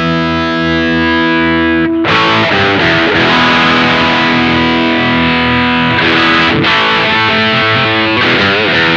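Electric guitar played through a NUX Queen Of Tone dual overdrive pedal with the treble knob being adjusted, giving a loud, sustained, crunchy overdriven tone with chords and a brief pause near two seconds, no talking.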